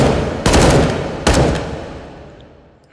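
A bullpup closed-bolt rifle in the virtual-reality shooter H3VR fires on full auto, two loud, close blasts about a second apart, each leaving a long ringing tail that fades to quiet.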